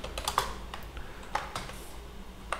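Keystrokes on a computer keyboard while C code for a function is typed, an irregular patter of light clicks at close range, fairly quiet, with no one talking over them.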